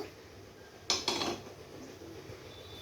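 A wok is set down on a stove while preparing lemon fish curry, giving one close, brief metallic clunk and rattle that fades quickly into quiet kitchen background, with no talking.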